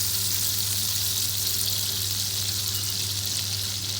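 Oil and butter heating together in a pan sizzle with a steady, close, continuous hiss, with no talk over it.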